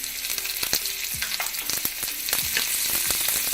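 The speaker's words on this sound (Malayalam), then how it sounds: "നെയ്യിലേക്ക് നമുക്ക് വട്ടത്തിലരിഞ്ഞ ഒരു 6 ചെറിയ ഉള്ളി" Six thinly sliced small shallots fry in ghee for a cumin rice porridge tempering, a steady bright sizzle with crackles and light stirring scrapes, close up with no talking.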